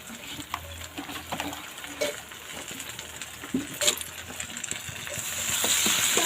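Water poured into tahri frying in a pan, giving scattered clinks and stirring sounds followed by a rising sizzle and hiss that grows louder toward the end, close and with no talking.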